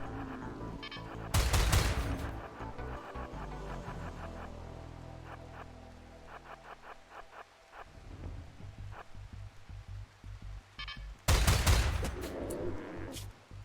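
A Gatling gun in the video game Rimworld firing in two loud, dense bursts of rapid shots, separated by a long stretch of lighter scattered popping and rumbling combat noise.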